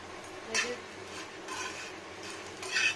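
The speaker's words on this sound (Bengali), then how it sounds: "এখানে উচ্ছে ভাজা হচ্ছে, এখনো হচ্ছে" A steady sizzle of bitter gourd frying in a pan with a few scraping stirs and clinks from a utensil.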